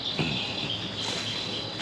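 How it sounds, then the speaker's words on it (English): Crickets chirp densely by a river at night, a steady, close, high-pitched trilling that fills the whole moment with no talking. "Lots of frogs and crickets down there."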